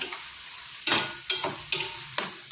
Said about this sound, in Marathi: आणि व्यवस्थित आपल्याला हे मिश्रण परतून घ्यायचं आहे। टोमॅटो आणि कांदा